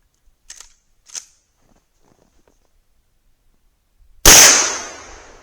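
A Marlin rifle fires a single loud, close .357 Magnum shot with a long fading tail, after two faint clicks and a stretch of near silence.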